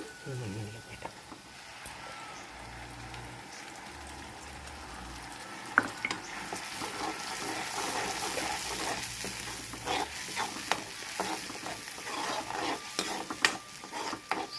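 Onion and tomato paste cooks in oil until the oil separates, giving a steady soft sizzle with scraping stirs and occasional spoon clicks against the pan, with faint background voices.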